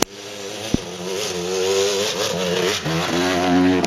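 A motorcycle engine revs hard in first gear on a hillclimb at the Three Sisters course, a loud sustained buzzing drone that rises and wavers, close and alone.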